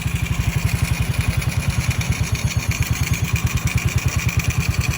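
An XRM 110 motorcycle engine idles close by while its carburetor air-fuel mixture is adjusted, a steady, even putter of rapid firing pulses with no other sound.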